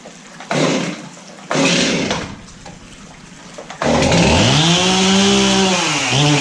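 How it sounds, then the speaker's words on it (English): Stihl MS 271 chainsaw being started in a closed indoor space: two loud pull-cord cranks with rough bursts, then the engine catches and runs steadily at a loud, close idle and rev. "I'll go ahead and start this one up real quick"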